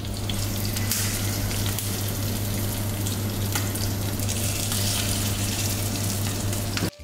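Steady, dense crackle of karimeen (pearl spot fish) shallow frying in hot oil, close and continuous, with a low constant hum underneath and no voices.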